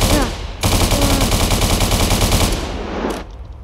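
Gunfire in the Roblox Prison Life video game, a rapid automatic burst that starts abruptly and holds loud for about two seconds, then a lone later shot, with a brief voice at the very start.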